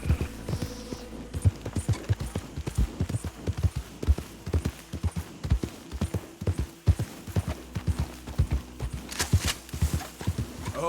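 Horse hooves clip-clop at a steady walking gait in Red Dead Redemption 2, a rhythmic run of close, distinct hoof strikes with a soft background hum.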